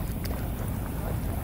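A fishing boat moves along the Padma river under a cloudy sky, a brief low rumble of water and wind that stays steady and close.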